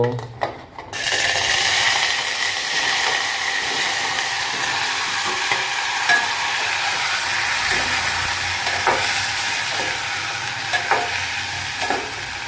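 Curry leaves, whole cumin and asafoetida sizzle in hot oil for a Gujarati gram-flour and cauliflower dish, starting abruptly as a loud, continuous close crackle with a few stirring clicks, no talk.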